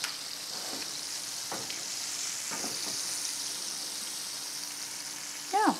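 Fish frying in a pan for an Ecuadorian chupe de pescado gives a steady, close sizzle and hiss, broken by a few light clatters and stirring sounds.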